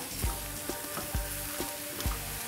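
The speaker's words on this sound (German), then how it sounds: "deswegen habe ich jetzt die Zwiebeln mal da reingemacht und die restliche Butter kann jetzt auch noch schmelzen, während die Zwiebeln schon andünsten" Onions sizzling in a pan as butter melts around them, a soft continuous crackle punctuated by several sharp pops and clicks at irregular intervals, close and fairly quiet.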